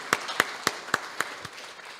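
A few slow, spaced claps ring out for a professor at a university faculty day, six sharp, fairly close hits about a quarter second apart, each a little quieter than the last.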